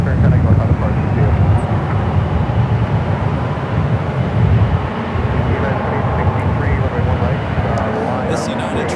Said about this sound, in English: This United 777-300ER flight heading to Hong Kong, flight 869.